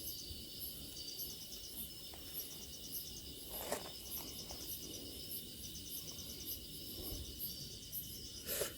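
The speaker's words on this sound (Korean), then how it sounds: "지금 귀뚜라미 봤습니다 귀뚜라미" Crickets chirp in a steady high-pitched trill outdoors at night, continuous and moderately near, with faint bird calls and a few soft knocks underneath.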